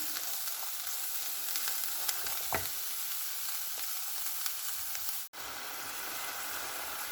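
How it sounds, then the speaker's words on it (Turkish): Dandelion greens sizzle and fry steadily in a hot pan, a dense continuous crackling hiss with a brief stir or scrape partway through and a sharp momentary cut near the end. "Bayağı kavrulmaya başladı."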